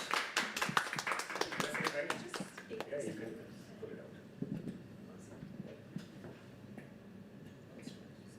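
At a live poetry open mic, the audience claps as the next poet comes to the stage. The clapping is brisk and scattered, thins after a few seconds, and gives way to nearby talking and shuffling.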